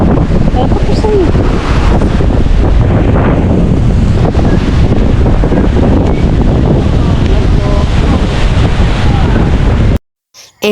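Sea waves and strong wind on Boracay beach, with heavy wind buffeting the microphone over a continuous surf roar for about ten seconds before cutting off abruptly.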